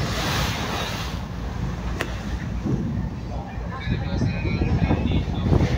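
Waves at sea wash against a rolling ship, making a continuous broadband roar mixed with wind buffeting the microphone, while a voice murmurs nearby.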